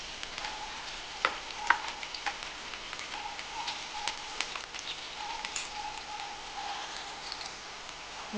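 Onion sizzles as it drops into hot oil already holding cumin seeds and curry leaves for a Vidarbha-style pavta bhaji, giving a steady, close frying hiss with scattered pops and spatters and occasional stirring clicks, with no speech.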